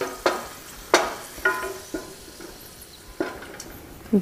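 Garlic chunks fry in hot oil, with a few distinct scraping stirs and light crackles spaced about half a second apart over a faint background bubble.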